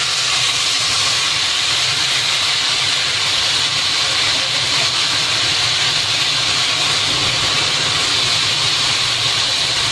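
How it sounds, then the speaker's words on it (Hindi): Finely chopped onion frying in hot oil for chicken masala gravy, a loud, continuous, even sizzling hiss that holds steady from start to finish. "अभी ऑयल में हम ये बारीक कटा हुआ प्याज डालते हैं।"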